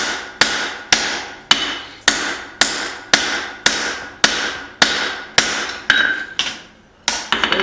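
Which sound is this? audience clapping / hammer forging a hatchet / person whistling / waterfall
hammer forging a hatchet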